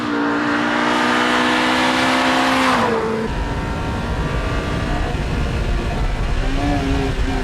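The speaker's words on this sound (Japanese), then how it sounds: "なんじゃこのエンジン、すごいなこれ" A 1997 Honda Civic Type R EK9 engine revs hard on a rain-soaked track. The loud, close pitch climbs steeply, drops sharply at a gear change, then rises again under heavy spray noise.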